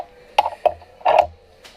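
A bench vise being cranked tight during a homemade side-by-side build gives a few short, close metallic clanks and ratchety knocks in quick succession, then a pause and one last faint knock.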